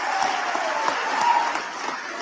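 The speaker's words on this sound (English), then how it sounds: "Who the fuck is clapping about this?" Audience clapping at a public address in Minneapolis, a dense, steady patter of many hands heard from a moderate distance, with no voices over it.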